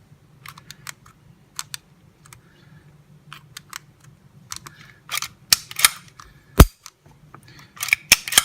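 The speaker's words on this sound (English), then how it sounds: "Counterclockwise, pull the trigger." A pistol trigger dry-fires during a Rat Rod flat-faced trigger installation: a series of sharp, close mechanical clicks at irregular intervals, growing more frequent toward the end, with no talk.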